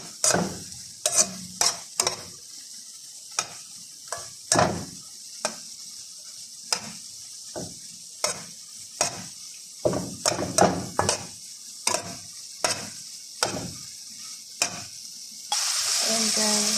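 A spoon stirs and scrapes a pan of sizzling musagha with chili powder and tomato sauce, sharp clanks landing about once a second over a constant frying hiss that grows louder at the end.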